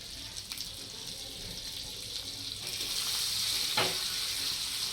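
Tandoori chicken pieces frying in Amul butter in a home kitchen pan, a steady soft sizzle with a brief louder hiss as something is added near the end.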